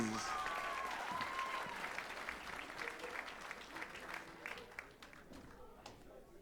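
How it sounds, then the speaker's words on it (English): Audience applause for a festival stage band at a Rhapsody Rotorua concert, a dense roar of many hands that slowly thins and fades, with a brief whistle early and some voices in the crowd. "Let's give them one more round of applause."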